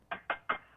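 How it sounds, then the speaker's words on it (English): Three quick, evenly spaced knocks on a door, crisp and close, with nothing else around them. "I knock at your door."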